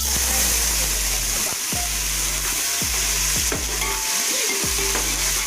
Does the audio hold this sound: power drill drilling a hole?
no